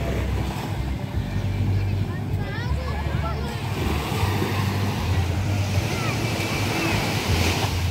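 Calm sea lapping steadily at a nearby shore, with a low continuous wash and some wind rumble against the microphone. A faint motorboat-like drone may sit underneath, and no one speaks.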